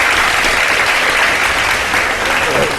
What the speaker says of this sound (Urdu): بھائی بہت سی تالیاں ہونی چاہیے بھائی ہمارے.